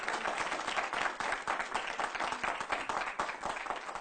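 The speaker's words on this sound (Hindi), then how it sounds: "आपके बात पे इतनी जबरदस्त ताली बजी है।" Studio audience applause at a televised political debate, a steady burst of many hands clapping at low level with no voices over it throughout.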